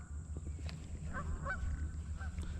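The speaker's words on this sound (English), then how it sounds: "The geese are having a great day on the water," Geese honking on a lake, heard from an inflatable kayak while bass fishing: a few short, nasal honks at a distance over a low steady rumble of wind and water, faint and sparse.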